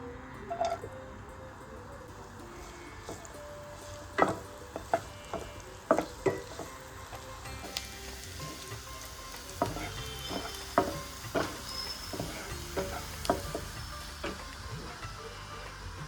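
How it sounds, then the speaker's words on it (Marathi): Onion sizzles in oil in a pan, a soft continuous frying hiss with repeated irregular clinks and taps of a spatula against the pan, close and without speech. "आता पॅन मध्ये तेल घालून पहिल्यांदा मी कांदा चांगला भाजून घेणार आहे"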